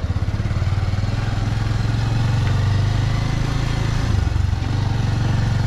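A motorcycle rides along at a steady mid-pitched engine drone, loud and close, with a rhythmic pulsing throb and a slight rise in revs near the end.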